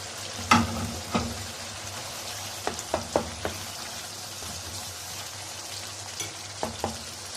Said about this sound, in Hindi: इस स्टेप पर हम इसमें 2 टेबलस्पून हम इसमें क्रीम ऐड करेंगे और इसको अच्छा सा हम मिक्स कर देंगे